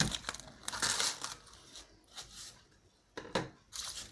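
Plastic wrap crinkles and rustles in several bursts close by, pulled and pressed down over a bowl of dough, with quiet pauses between the crackly handling sounds.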